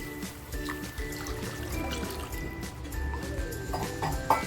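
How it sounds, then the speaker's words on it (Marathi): Water pours and trickles into a pan of cooked masala for paneer gravy amid kitchen clatter, a steady liquid splash running the whole time. "त्याच्यात मी पाणी टाकते"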